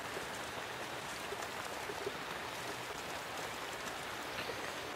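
Steady outdoor rain falls beside a Gourmet Guru kamado grill, a soft, even patter that holds at a low level with no breaks and no voices.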